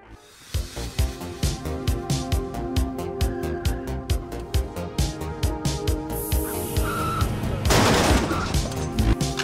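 Goons shooting up O'Grady's liquor store in Scarface: The World Is Yours, a steady rhythmic volley of loud gunshots about every half second, with music-like tones and a crashing burst near the end.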